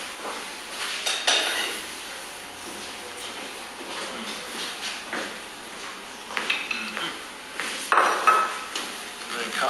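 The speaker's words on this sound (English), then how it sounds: "Cut a nice generous slice like that." A knife slices through a carrot cake and clinks against a plate, with scattered taps and scrapes of cutlery and crockery close by and a soft voice faintly underneath.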